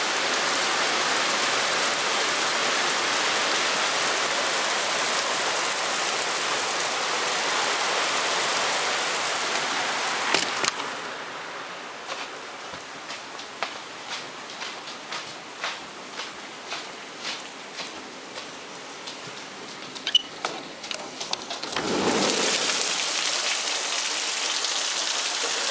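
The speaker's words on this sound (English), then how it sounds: "Check out the rain." Steady rain on an Ohio day gives a broad, continuous hiss for about ten seconds. It then thins into scattered drips and taps before the downpour swells back in near the end.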